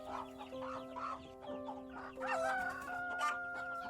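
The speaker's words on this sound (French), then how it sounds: "Les coqs entonnent leurs chants stridents avec une vigueur débordante" Several roosters crow loudly one after another over a busy farmyard backdrop. The long, strained calls overlap and stack up, strongest near the end.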